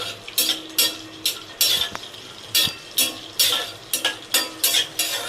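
Cashews lightly frying in a new kadai while a spoon stirs and scrapes through them, making a steady run of about a dozen close, rhythmic scraping strokes over a soft sizzle, with faint metallic clinks.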